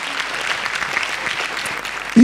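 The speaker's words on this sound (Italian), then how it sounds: "è veramente doppio applauso. Quindi facciamolo e riscaldiamo questa bellissima sala." Audience applause in a concert hall before an orchestra performance, a brief burst of scattered clapping from the crowd ending with a voice starting to speak.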